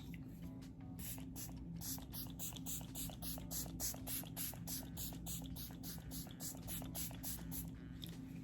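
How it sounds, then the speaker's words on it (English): A makeup setting spray misted onto the face, a rapid series of short hissing pumps in a steady rhythm, repeated many times at close range with no talk. "I'm going to spray my face with this to keep everything in place"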